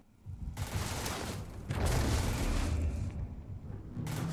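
Vortex Grenades in Starfield go off in a series of heavy, rumbling blasts, each a sustained roaring burst separated by brief gaps, loud and close with no talking over them.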